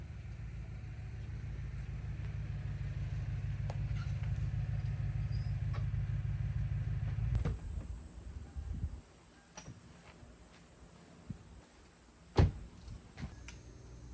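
A Lexus car being driven gives a low, steady engine rumble for several seconds, then cuts out, leaving faint quiet with a few scattered clicks and knocks.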